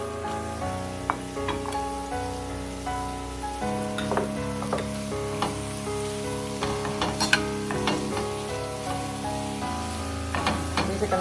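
Mushrooms, about three cups, sizzle steadily in a hot pan beside blistered, toasty-brown garlic, with scattered pops and crackles over an even frying hiss throughout.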